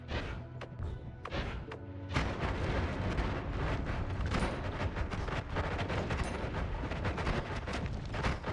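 Explosions from a magic wand in a video game burst in a dense, rapid barrage, loud and rumbling with crackling debris, continuing almost without pause after a few sharper opening blasts.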